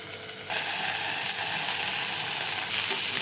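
Okra (bhindi) sautéing in a pan, a dense, steady sizzle that jumps in loudness after a brief quieter start and then holds evenly, with no voices.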